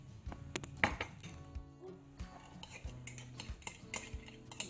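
A spoon stirs cockatiel food in a dish, producing close, repeated metallic clinks and scrapes in an uneven stirring rhythm, with no talking.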